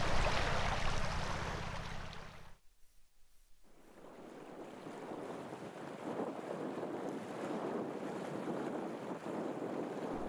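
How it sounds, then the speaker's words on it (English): Cold north wind buffets the microphone beside a lake in North Norway at plus 5 degrees Celsius, a loud roaring rush that drops out briefly near the start, then returns as a steady gusty blow. "as you can hear, the north wind is blowing kinda nicely."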